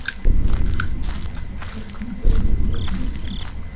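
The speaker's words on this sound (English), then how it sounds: "I'm chewing on something because it's more entertaining than this." Someone chews food right up close to the microphone, with wet, crunching bites coming in two bursts and no speech over them.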